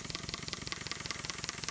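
A TVR1A twin-cylinder marine steam engine runs steadily, giving a fast, even chuffing beat with light mechanical rattle and hiss at close range, and no talk.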